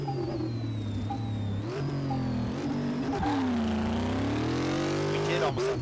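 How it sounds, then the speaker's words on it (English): A hearse engine in Car Mechanic Simulator 2018 purrs and revs steadily, its pitch rising and falling through gear changes while a speaker talks over it. "I do love the purr of this engine"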